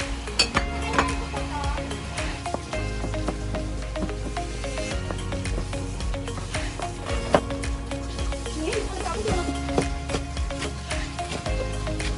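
Pork stir-frying in a pan for udon, a dense continuous sizzle with utensils scraping and clinking against the pan throughout, close and steady.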